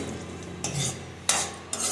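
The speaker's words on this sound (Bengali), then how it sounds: "লাল লাল করে শুকনো লঙ্কাটা ভেজে নিচ্ছি" Dried red chillies frying in oil in a wok, with a sizzling hiss and a few scraping stirs of a utensil against the pan, close and clear.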